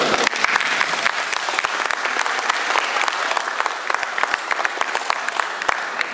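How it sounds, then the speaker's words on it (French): Sustained crowd applause at an anime convention preview screening, a dense, steady wash of many hands clapping with sharp individual claps standing out, loud and close throughout. "On peut même les applaudir d'ailleurs."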